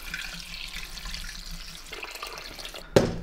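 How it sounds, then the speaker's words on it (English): Cold tap water runs steadily into a pot for beef bone broth, a soft continuous splashing that ends with a sharper clunk near the end, with no talking. "So first thing I wanna do is add some cold water."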